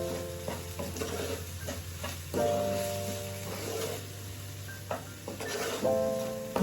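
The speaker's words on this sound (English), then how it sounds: "And just give it a good stir." Onions and green chilies sizzle in a pan while a utensil stirs and scrapes through them, with repeated scraping strokes over a steady frying hiss.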